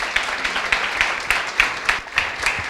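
Light clapping for Luiz Carlos at a gathering, a few sharp claps in loose rhythm, fairly close and brief with no talk over them.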